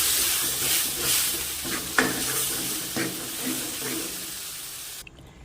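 Ground masala sizzles and fries in sesame oil in a kadai, with a bright continuous hiss broken by a few sharp stirring scrapes close by.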